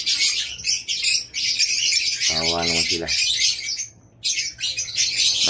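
Caged pet birds chirp and squawk continuously with bright, rapid calls, one harsh squawk standing out; a person speaks briefly over them.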